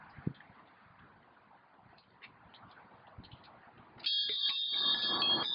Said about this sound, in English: Would one of you girls ring the bells? The horses had bells on